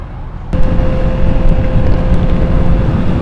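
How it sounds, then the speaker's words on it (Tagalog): Steady roar of heavy road traffic on the Marilaque highway, with cars, motorcycles, buses and trucks, heard close and loud as a continuous wash with a faint steady tone running through it. "Dami na kasing sasakyan, dami ng motor, daming bus, daming truck, ganyan."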